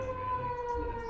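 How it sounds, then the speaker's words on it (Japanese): An ambulance siren sounds in a city, Montreal, as a steady, fairly faint wail in the distance, heard briefly with no talk over it. "めちゃ救急車の声聞こえる。"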